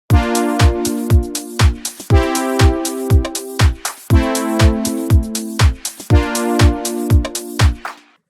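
A Scaler 2 synthesized keyboard plays a progression of sustained triad chords with plucky bass notes pulsing underneath, steady and rhythmic, clear and up close.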